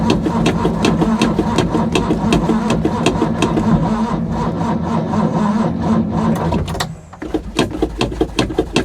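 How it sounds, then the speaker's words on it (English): Starter motor cranking the engine of a barn-find Ford Capri race car after 20 years, a loud, steady rapid churning that slows and falters near the end as the battery weakens, without firing up. "Starter motor."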